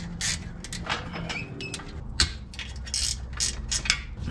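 Ratchet wrench clicking quickly and closely while short nuts and bolts are removed from the rear brake dust shields of a Porsche 911, a dense series of sharp ratcheting bursts with no talk.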